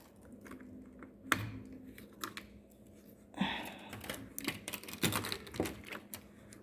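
Fertilizer with iron and potassium humate is stirred into water, giving faint irregular clicks and scraping knocks in uneven bursts, close and quiet, with no one talking.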